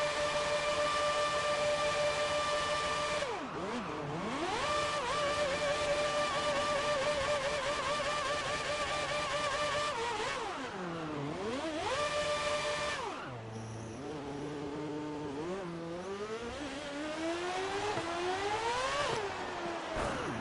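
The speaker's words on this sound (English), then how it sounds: "See how good the donuts can be done in this car." Classic car engine in the F1 2018 video game, revving hard through repeated donuts, with pitch sweeping down and back up in waves over a sustained loud drone.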